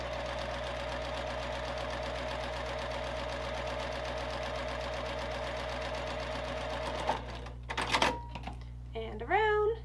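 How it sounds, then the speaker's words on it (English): A sewing machine stitches down both sides of a marked line on fabric, running in a fast, steady mechanical chatter for several seconds before stopping, followed by a few handling clicks and a short burst of speech. "take it on over to the sewing machine and sew down both sides of the line"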